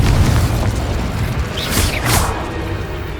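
A Confringo explosive spell in Hogwarts Legacy, with loud booming blasts and crackling bursts over a dense rumbling game soundscape, two sharp explosive peaks standing out near the middle.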